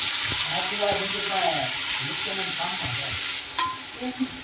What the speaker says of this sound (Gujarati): આપણે હિંગ નાખી વેજીટેબલ સાતળી લઈએ